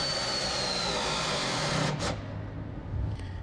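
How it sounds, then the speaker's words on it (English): A pneumatic air ratchet for M8 to M12 nuts and bolts runs in a workshop with a steady, loud airy whir that cuts off just under two seconds in, followed by a brief hissing burst and quieter tail. "it's just an air ratchet"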